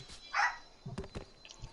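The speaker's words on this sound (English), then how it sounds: "Ali, stop barking, bro." A dog barks in a short burst of three or four sharp yaps, moderately close and fairly quiet, with a faint higher yelp before them and no talk over them.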